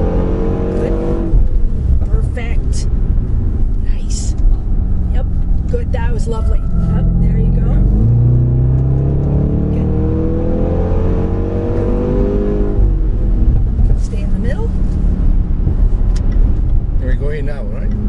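A 2016 Range Rover Sport SVR drives hard on a race track, its engine droning loud and steady throughout with rising revs. Someone talks continuously over the engine.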